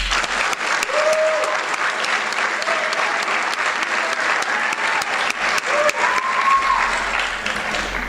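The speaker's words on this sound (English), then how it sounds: "give them a huge round of applause" Sustained, loud applause from a large audience at a cadet commencement ceremony, steady throughout, with occasional cheers and whoops rising above the clapping.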